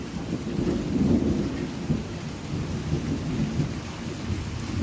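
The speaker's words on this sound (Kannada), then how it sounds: "ಕೇಳಿಸ್ತಾ ಫ್ರೆಂಡ್ಸ್ ಸಿಡಿಲು?" Thunder rumbles low and steady beneath a wash of falling rain, building to a heavier roll around the middle and then settling back into a continuous storm drone.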